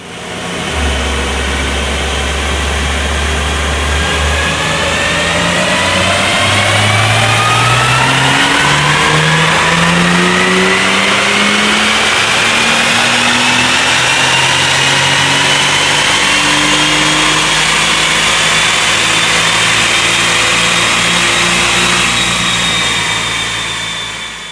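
A stock Porsche 991.2 Turbo S runs on a dyno, revving steadily up through the gears with a loud, rising engine whine and turbo tone that climbs for over twenty seconds before easing off.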